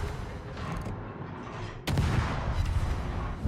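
Heavy battleship gunfire in World of Warships, a single loud broadband blast at about two seconds rising over a continuous low rumble of distant booms and battle ambience.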